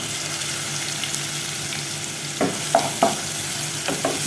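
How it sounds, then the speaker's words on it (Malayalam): Finely chopped onion sizzles steadily in hot oil or ghee in a pan, a close, constant frying hiss broken by a few sharp scrapes of stirring toward the end. "നന്നായിട്ട് തന്നെ ഒന്ന് വഴറ്റിയെടുക്കണം"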